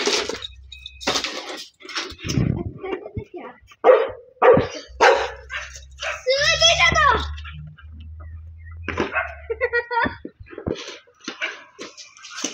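A dog barks in short, sharp bursts scattered among a child's lively chatter indoors, with a few clattering knocks nearby.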